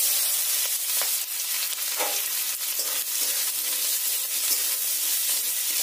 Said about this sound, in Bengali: পেঁয়াজগুলোকে একটু হালকা লাল লাল করে ভেজে নেব।